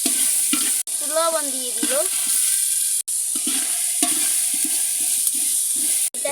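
Ginger paste and green chilies fry in oil in a pot with a steady, loud sizzle, broken by occasional spoon stirs and scrapes, while someone speaks briefly over the cooking.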